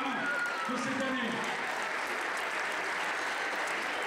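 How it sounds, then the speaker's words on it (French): A seated audience applauds a French fencing champion at a mixed-team foil match in Melun, steady dense clapping throughout with some voices mixed into the crowd noise. "On peut l'applaudir."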